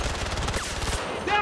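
Rapid automatic gunfire from an AC9 weapon in Battlefield 2042 gameplay, a dense burst of loud shots lasting about a second and then cutting off, with game sounds continuing afterward.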